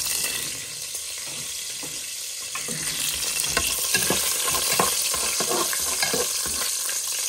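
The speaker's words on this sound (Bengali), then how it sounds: "গরম মশলাটা একটু ভাজা ভাজা করে নিই।" Whole garam masala fries in hot oil for a country chicken curry. A close, lively sizzle is punctuated by frequent spoon scrapes and stirs.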